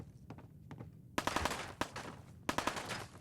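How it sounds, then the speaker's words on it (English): Gunfire in a Fallout video game starts as a few fainter shots, then breaks into louder rapid automatic bursts of sharp, closely spaced cracks. "So again, we're going to hear shooting"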